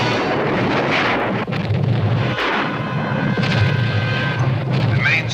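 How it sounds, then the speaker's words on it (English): A huge explosion of an oil company's main storage tank in a monster film, heard as a sustained, dense rumbling roar with crackling bursts, loud and continuous throughout. "The main storage tank of the Japan Oil Company has exploded."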